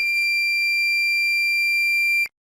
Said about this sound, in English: The buzzer sounds, indicating that the water tank is full or overflowing.